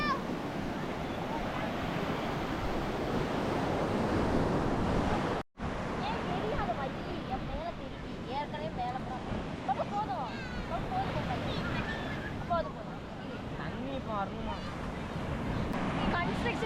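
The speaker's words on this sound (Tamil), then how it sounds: "கடலுடைய சத்தத்தை கேளுங்க" Sea waves wash and surge at Thiruchendur beach in a constant broad roar, with wind noise and people talking in the background.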